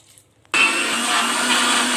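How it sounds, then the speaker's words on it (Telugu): A mixer grinder switches on abruptly after a short pause and whirs loudly and steadily, blending beetroot with water continuously without a break. "పదార్థాన్ని మళ్ళీ ఇంకొకసారి గ్రైండ్ చేసుకుందామండి"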